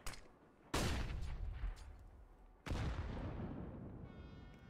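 A flashbang grenade goes off in a tactical shooter match, two sharp loud bangs about two seconds apart, each with a long ringing, rumbling tail that slowly fades.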